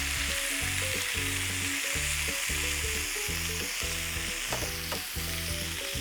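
Pork and cabbage fry with butter in a pan, giving a loud, steady sizzle with frequent clatter as the food is stirred and turned, close up with no talk.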